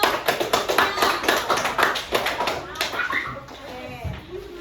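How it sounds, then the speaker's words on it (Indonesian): Children clapping for a group of classmates in a classroom, a dense patter of many small hands with busy chatter and voices underneath, easing off toward the end. "kita tepuk tangan untuk kelompok"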